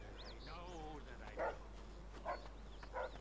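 Dogs barking in the Mafia II video game: three short, fairly loud bark bursts about a second apart over a steady low game hum.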